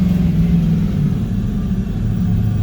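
A 2006 Ford F650 with a 6.0L VT365 diesel engine, losing power under load, revs at full throttle in a steady, loud, close low rumble that holds without a break.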